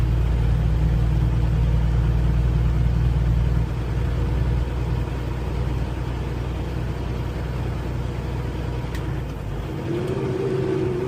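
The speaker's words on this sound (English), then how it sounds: "I want you to listen to the truck" A Kenworth T680 truck engine labours on a Colorado Rockies climb, a loud steady low rumble that sags in pitch as the revs drop, with a brief whine near the end.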